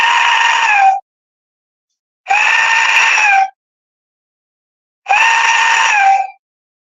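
An Aztec death whistle gives three loud, shrill, scream-like blasts, each lasting about a second, separated by clean silences. The tone is harsh and wavering, and no one speaks.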